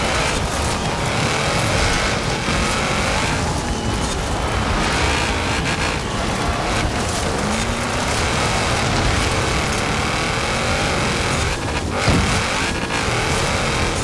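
Steady, loud engine roar from a jeep driven in Forza Horizon 4, the motor holding a continuous drone with slight rises in revs over constant road and wind noise, no voices.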